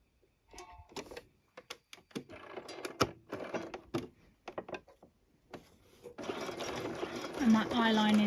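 A sewing machine fitted with an invisible hem foot runs near the end, a loud continuous whirring stitch rhythm, after a stretch of a person talking with scattered small clicks.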